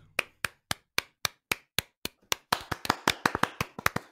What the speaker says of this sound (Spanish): un aplauso para los del grupo, Luis.